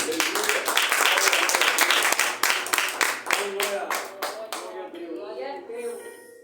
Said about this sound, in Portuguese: toda a igreja aplauda a Jesus